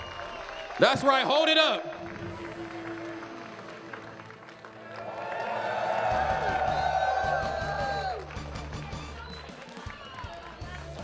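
Crowd at the Genesis 9 Super Smash Bros. Ultimate top 8 grand finals applauding and cheering for player MkLeo, a swell of noise peaking in the middle, with a host talking over it before and after.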